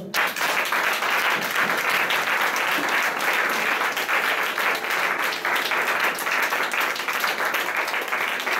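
A church congregation applauds the Lord in sustained, dense clapping that fills the whole stretch at steady loudness, with no pause and no clear speech over it.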